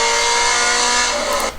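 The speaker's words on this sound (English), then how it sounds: "you're going to be wide open on the throttle in 4th, braking" A Scion FR-S at wide-open throttle in fourth gear on a track holds a loud, steady engine drone heard from inside the car, cutting off abruptly as the throttle lifts near the end.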